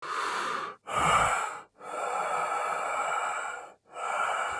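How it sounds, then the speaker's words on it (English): Four heavy, exhausted breaths, rasping and close, each separated by a short pause, as from an old man; no speech. "It was the heavy, exhausted breathing of an old man."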